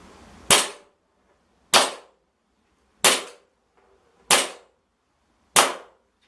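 Five sharp airsoft gun shots fired at a target, evenly spaced about a second apart, each a crisp close snap with a short decay and no talking.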